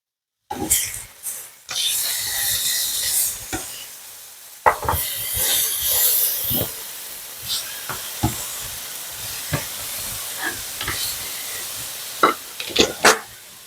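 LA galbi Korean ribs cooking indoors, a loud broad sizzle that swells and fades in waves, with sharp clatters and bumps as the meat is flipped in the pan.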